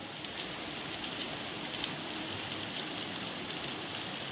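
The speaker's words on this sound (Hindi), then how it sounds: "देख सकते हो कितना जोर शोरों का बारिश आ रहा है।" Heavy rain pours down in Jorhat, Assam, a dense, steady roar of falling water and drops hitting surfaces that holds constant throughout, with no voices.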